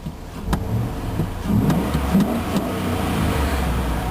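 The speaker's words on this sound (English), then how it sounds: "Very nice heavy-duty sounding engine." A 2003 GMC Sierra 2500 HD heavy-duty pickup's engine runs at idle, a moderate steady rumble with a few clicks and slight fluctuation, heard from nearby with no talking.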